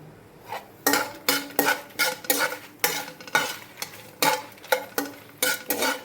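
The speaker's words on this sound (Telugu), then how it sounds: "ఇవి కూడా బాగా వేగుతున్నాయండి స్లో ఫ్లేమ్లోనే పెట్టుకోండి హై వద్దు" A spatula scrapes and stirs fenugreek seeds dry-roasting in a pan over a low flame in a steady repeating rhythm, with light rattling and faint sizzle, close up.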